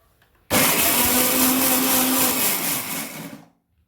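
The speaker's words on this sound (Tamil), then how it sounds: "இப்போ மிக்சியில் அரைச்சிருவோம்." A mixer grinder blends beetroot for jam, starting abruptly with a loud, steady high-pitched whir that holds for about three seconds, then winds down and stops.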